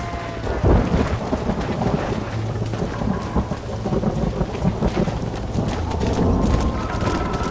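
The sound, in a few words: thunderstorm in Red Dead Redemption video game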